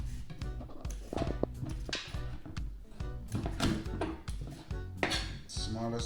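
Knife chopping a hard pumpkin into slices on a kitchen cutting board, a series of close, irregular thunks and clicks at moderate volume with faint kitchen clatter.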